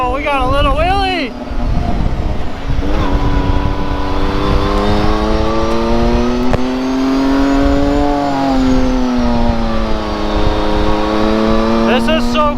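A UTV engine revs hard and pulls in second gear on an off-road trail ride, a loud, close, sustained rising drone with wind buffeting. Riders' voices come through at moments.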